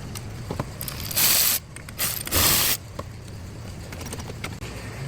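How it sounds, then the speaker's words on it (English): A ratchet clicks rapidly in two short bursts while loosening 12mm bolts on a Honda Civic, set against a quiet room and smaller mechanical clicks. "Here's the tool that I'll be using to remove those bolts. Again, 4 12mm bolts."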